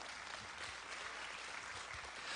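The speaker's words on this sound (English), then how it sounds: "go ahead and applaud for that" Congregation at a Sunday church service applauding, a steady wash of many hands clapping, soft and somewhat distant, continuous throughout without a break.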